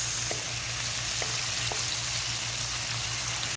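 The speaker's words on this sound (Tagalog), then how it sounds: "Una kong ginisa sibuyas, bawang, luya, at kamatis." Onion, garlic, ginger and tomato sautéing in a pan, a steady close sizzle with a low hum underneath and a few light utensil taps.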